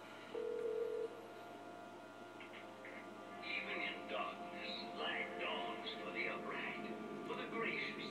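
A telephone is dialed in the video game The Darkness: a short steady tone opens, then a ringing tone is heard under murmuring game voices, fairly faint and close.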